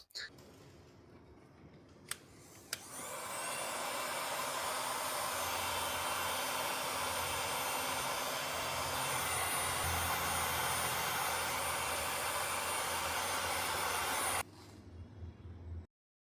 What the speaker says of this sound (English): I'm going to do some shrink wrapping,